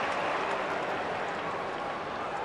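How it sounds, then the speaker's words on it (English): A vocal crowd roars steadily at the Gabba stadium during an AFL football match between Brisbane and Sydney, a dense, continuous wash of cheering with no distinct breaks. "Very vocal crowd at the Gabba."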